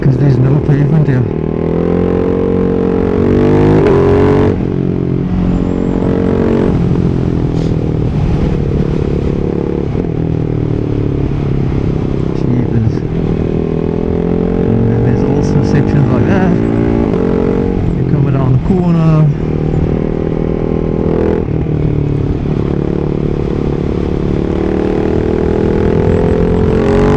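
A Ducati Hyper 698 fitted with a Termignoni full race exhaust runs on a road. The engine drones loud and steady, with its pitch rising and falling as the rider revs and shifts, and a voice talks over the engine throughout.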